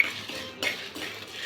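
A spoon scrapes and clinks against a pan while cinnamon, cloves and cardamom roast dry, giving a few close, light metallic taps and stirring scrapes.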